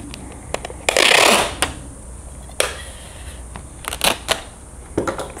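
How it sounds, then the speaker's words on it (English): A small piece of tape is torn and pressed down over hinge tape while installing push rods and control horns on a model airplane: a loud ripping burst, then scattered soft crinkles and taps, close up with no talking. "I'm gonna put a little piece of tape over that right now."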